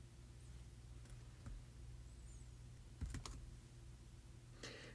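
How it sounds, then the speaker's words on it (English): A few sparse keystrokes on a computer keyboard, entering a command in a terminal, sound faint and close against a low steady hum, with a short cluster of clicks near the middle. "That works by going to our terminal and typing npx digit the GitHub username"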